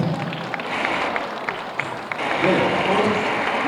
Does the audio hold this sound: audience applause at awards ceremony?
yes